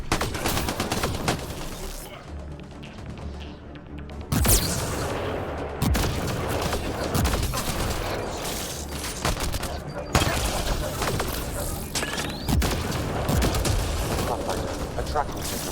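Gunfire bursts at a volatile canister in a video game on Insanity difficulty, with sharp loud shots and impacts spread through the clip over constant game noise and some speech.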